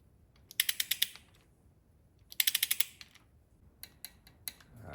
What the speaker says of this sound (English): we'll set the torque gun up and get this torqued